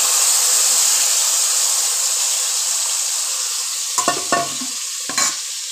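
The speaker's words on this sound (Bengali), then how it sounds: "তেলের মধ্যে দিয়ে দিচ্ছি মশলাটা" Whole cumin and spice paste frying in hot oil in a kadai, a loud, steady sizzle and hiss that continues throughout, with a few brief stirring clatters near the end.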